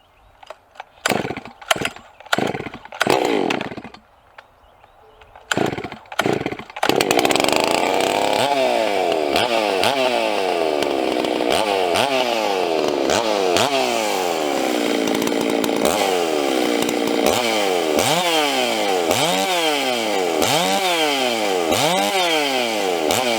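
Modded Stihl 066 chainsaw being pulled over with several sharp cranking bursts, then firing up and roaring loud and close, with repeated revving swells as the throttle is blipped.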